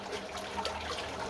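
Water pouring into bee syrup to thin it, a steady splashing trickle heard close and alone with small bubbling variations.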